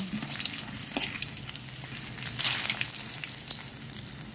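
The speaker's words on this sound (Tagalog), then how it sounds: "Habang gumigisa ang ating corned beef" Corned beef sautéing in a hot pan, a steady loud sizzle with crackling pops and the occasional scrape of stirring, heard alone with no talk.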